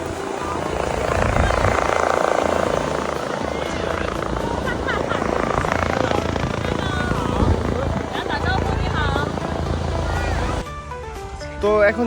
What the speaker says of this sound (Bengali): তো এখন যাব হেলিকপ্টার ট্যুরে